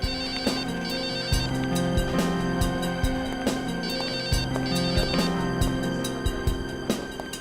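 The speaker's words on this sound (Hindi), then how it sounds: "सर आपका मोबाइल बज रहा है क्या?" A mobile phone rings inside an office cabin, its ringtone melody repeating steadily and loudly with rhythmic beats, with no talking.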